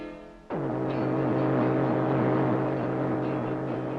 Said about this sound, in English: It is an expensive sound. It is the sound of jamming.